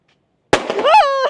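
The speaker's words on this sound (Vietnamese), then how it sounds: "Thì bên này là mọi người đang đốt pháo này." Firecrackers go off in a street in China, with one sharp, loud bang after a moment of silence, then a brief rising whistle-like tone.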